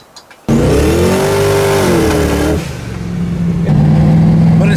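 A twin-turbo Chevrolet S10 engine bursts into a loud close rev that climbs and holds, then stumbles and breaks up before surging again, harsh and uneven with no talk.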